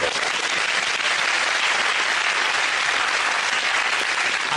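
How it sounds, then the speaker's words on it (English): Studio audience at a televised comedy panel show claps loudly and continuously, a dense, even wall of applause throughout. "I think a few of the men started clapping before the end of that joke"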